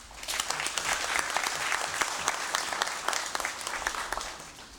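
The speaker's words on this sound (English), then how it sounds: "let's give both of them a round of applause" A legislative chamber applauds two young men during a congressional session, a fairly quiet, room-filling patter of many hands with scattered sharper claps, slowly tapering toward the end.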